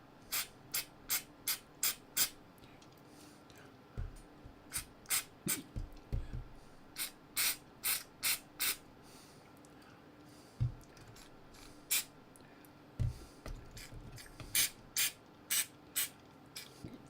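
Lubricant or cleaner is sprayed onto the parts of a c.1967 National (Panasonic) RQ-501S reel-to-reel tape recorder. Short, sharp aerosol bursts come in quick rhythmic runs with brief pauses between them, close by over a quiet background, and a few soft clunks are mixed in.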